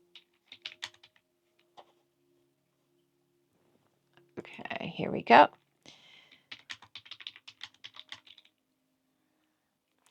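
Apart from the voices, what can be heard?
typing on computer keyboard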